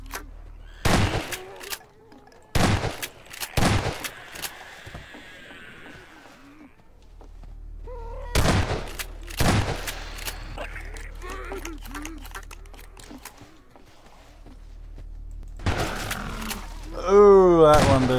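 Gunfire in the video game Garry's Mod: sharp, loud shots in separate bursts and clusters, with quieter gaps between, and a voice briefly audible near the end.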